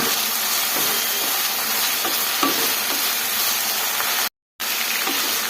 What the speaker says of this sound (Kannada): ನೋಡಿ ಈ ಥರ ಫ್ರೈ ಮಾಡ್ಕೊಬೇಕು ಬದನೆಕಾಯಿ ಫ್ರೈ ಮಾಡಿಕೊಂಡೆ